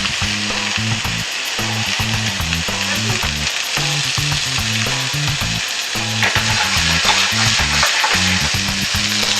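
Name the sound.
hunter's sausage searing in a hot pan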